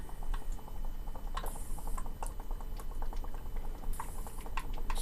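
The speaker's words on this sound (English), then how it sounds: "Certainly hear the device making that lovely surging noise." A Nitrosurge device surging as stout beer is poured, giving a steady bubbling, fizzing churn with rapid crackly ticks running throughout at moderate loudness, no voices.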